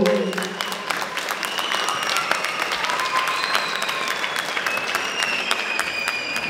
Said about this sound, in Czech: vy mu zatleskejte po cestě dolů.